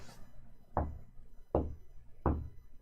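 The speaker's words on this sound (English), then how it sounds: "they heard 3 light knocks right behind them" Three light knocks sound close behind someone in a quiet bathroom, evenly spaced and soft but distinct, each a dull thud separated by silence.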